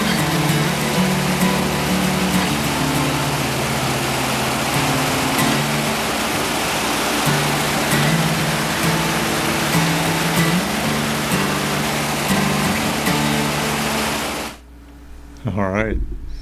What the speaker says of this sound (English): the Great Falls has reached its full breadth as well